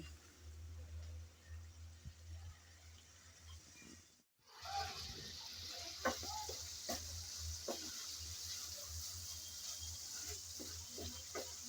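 Spice paste with sliced green chilies frying for a shrimp dish, with a low steady sizzle and a few soft scraping stirs, faint and close, broken by a brief silent gap.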